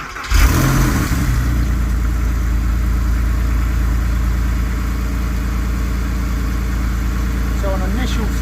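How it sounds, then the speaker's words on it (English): A Porsche 911 engine fires on a cold start after sitting unused, catching abruptly and settling into a loud, steady, close idle with a deep rumble, while someone talks briefly near the end. "Obviously we might get some sort of cold start rattle because the car's not used regularly"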